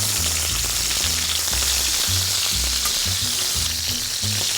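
Veal parmigiana turnovers fry in hot fat with a bright, constant crackling sizzle and a pulsing low bubbling beneath, steady and close throughout with no voices.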